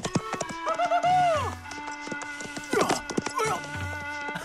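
In a Pocahontas cartoon scene, horse hooves clip-clop over music, mixed with a whinny and other animated sound effects.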